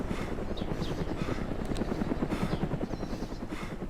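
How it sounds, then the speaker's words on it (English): Helicopter rotor thumping steadily and loudly throughout in the DayZ survival game, a continuous fast chopping pulse with no talk over it. "Yeah, I think there's two helicopters."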